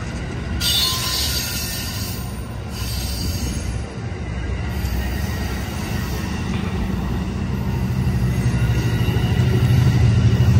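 Amtrak San Joaquin train 714, led by locomotive 8308, rolls through Emeryville Station with a steady, swelling rumble of railcars and wheels, a thin metallic squeal above it, growing louder toward the end with no voices.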